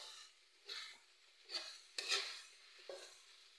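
A utensil stirs food in a pan: several soft scraping sweeps land at irregular intervals, with a brief metallic clink in the middle, quiet and close over near silence.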